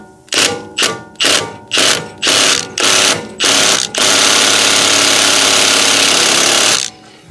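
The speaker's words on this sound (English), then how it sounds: "So put the impact driver on a medium setting." Impact driver running in reverse on a medium setting, seven short hammering bursts followed by a long continuous rattling run before it stops, loud and close.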